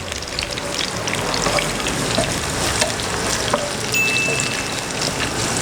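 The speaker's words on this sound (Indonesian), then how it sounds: "Ini kita akan goreng bersama dengan bawang putih." Garlic sizzles steadily in hot aromatic oil over a low flame, a dense, even frying hiss with small crackles and pops throughout.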